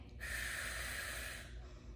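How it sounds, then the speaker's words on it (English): Steady breathing during a multifidus-strengthening exercise, a single long, close, breathy exhale lasting about a second and a half, with no talk over it. "I'm just breathing."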